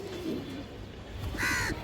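A large pigeon gives one brief, soft coo near the end, over a faint steady background hum.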